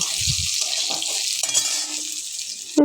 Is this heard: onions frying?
yes